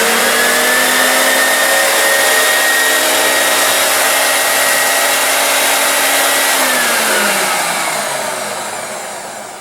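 A Lawnmaster 15 amp electric wood chipper runs with a loud, steady motor whine and whir, holding an even pitch before spinning down and fading near the end.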